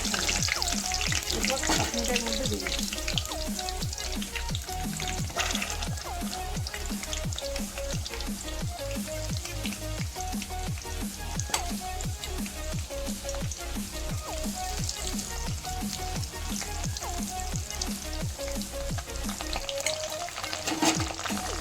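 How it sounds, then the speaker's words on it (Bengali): Stuffed, egg-coated pointed gourd pieces fry in hot oil with a dense, unbroken sizzle and rapid popping. The sound stays close and loud for over twenty seconds. "গরম তেলের মধ্যে আগে পটলের টুকরোগুলো দিয়ে দিচ্ছি একসাথে তিন চারটে করে"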